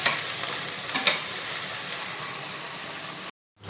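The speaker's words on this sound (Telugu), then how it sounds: "కొంచెం జీలకర్ర వేసుకోవాలి వేసుకొని వేయించుకోవాలి" Cumin seeds fry in a pan for gongura chutney, a bright, steady crackling sizzle with a few stirring scrapes, cut off briefly by silence near the end before resuming.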